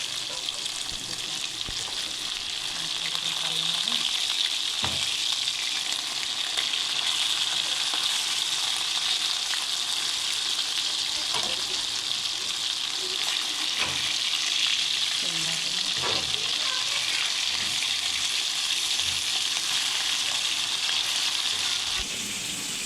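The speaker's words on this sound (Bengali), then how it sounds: "মাছগুলো আমরা একদম হালকা লাল লাল করে ভাজবো।" Hilsa fish pieces fry in hot oil in a wok, giving a loud, dense, continuous sizzle with occasional sharper spits and pops across the whole stretch, with no voices.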